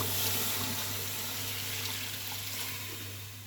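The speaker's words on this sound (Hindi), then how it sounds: "ये एक जग पानी का डाला है" A jug of water pours into a pressure cooker of beef nihari, a steady rushing splash that runs continuously and slowly eases off toward the end, close by with a low background hum.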